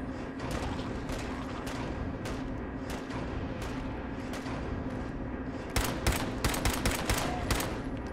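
Rapid gunfire in Fallout 4 runs steadily throughout, with a denser burst of louder, sharper shots near the end.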